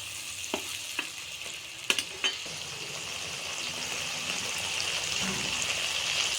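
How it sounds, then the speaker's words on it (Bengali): Potatoes and eggplant sizzle steadily in hot spiced oil in a Bengali fish curry pan, with a few sharp pops and clicks of a utensil early on, then a continuous close hiss. "এবার আলু বেগুনটা দিয়ে দিবে মশলার তেলটা ছেড়ে গেল"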